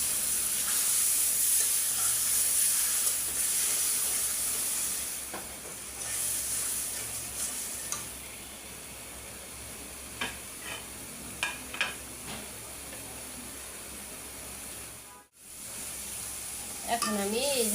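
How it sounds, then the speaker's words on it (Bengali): A spice mixture of turmeric, chili, coriander, garam masala and cumin powder fries with a splash of water in a pan, giving a strong steamy sizzle that slowly eases, broken by occasional stirring scrapes. "এখন অল্প পানি দিয়ে মশলাটা ভালো করে কষায় নেব।"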